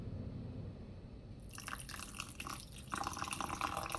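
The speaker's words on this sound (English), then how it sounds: "And now, the apple cider vinegar, I pour." Apple cider vinegar is poured while making lamb chop tacos. A quiet trickle of liquid starts partway in and continues steadily, with bubbling and splashing that grow a little louder toward the end.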